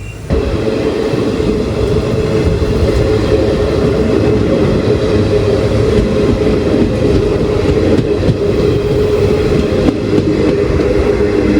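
Steady rumble of the Malabar Express running at speed, heard from inside a sleeper class coach on the Trivandrum Central to Payyanur route: a loud, continuous low roar with constant wheel and carriage noise and no talk.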